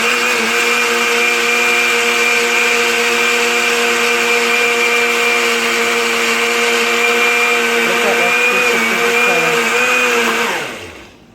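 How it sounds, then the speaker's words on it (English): A blender blending boiled beets and potato whirs loudly and steadily at high speed for several seconds, then winds down as it is switched off. "now I'm gonna just scoop this out and put it into my blender"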